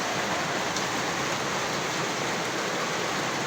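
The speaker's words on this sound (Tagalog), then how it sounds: "papalakas yung ulan" Steady, dense rain pouring down without a break, a broad continuous hiss filling the whole clip at a fairly even level.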